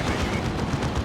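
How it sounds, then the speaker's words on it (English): A Stormblade super-heavy tank with four plasma cannons firing an overcharged plasma blast in Warhammer 40k Dawn of War 2: a dense, loud roar of energy fire and battle noise that fills about a second. "Speaking of plasma, big overcharge from the Stormblade."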